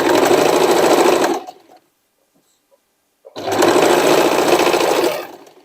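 A sewing machine stitches a denim jacket made from old jeans, running in two loud, close, steady whirring bursts separated by a short silent pause.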